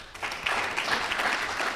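An audience at a conference on sport and disability applauds, a brief burst of scattered clapping of moderate loudness with no talk over it.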